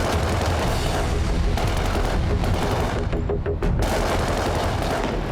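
Dense, loud bursts of rapid assault rifle fire crackle continuously, overlapping shots forming a chaotic barrage with a brief lull near the end before resuming.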